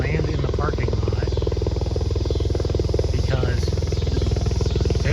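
A medical helicopter comes in to land in a parking lot, its steady rotor beat and droning engine loud and continuous throughout, with a person talking over the noise.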